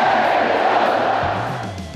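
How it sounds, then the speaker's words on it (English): Roar of Oregon Duck football fans packed in stadium stands, a loud dense crowd cheer sustained throughout and slowly fading toward the end. "When football season starts, these stands fill with adoring Duck fans"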